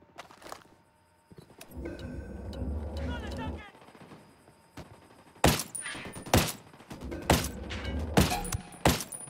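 G28 sniper rifle firing in Tom Clancy's Ghost Recon: a quieter rumbling stretch, then several sharp, loud, close shots in quick succession, each with a brief ringing tail.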